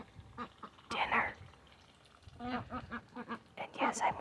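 Several domestic ducks quack in bursts in a backyard flock of males and females, close and moderately loud, with short pauses between calls.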